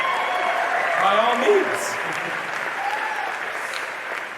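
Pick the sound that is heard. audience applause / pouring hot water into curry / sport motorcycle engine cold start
audience applause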